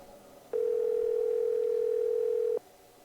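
A single steady telephone tone sounds on the line in a Nancy Drew game, one clean sustained beep lasting about two seconds before cutting off into quiet.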